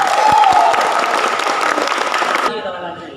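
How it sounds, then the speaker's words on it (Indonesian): Students at a vocational high school assembly applaud together, a loud dense clapping from a crowd close by that carries over a voice, then cuts off abruptly near the end. "Tepuk tangan untuk teman-teman."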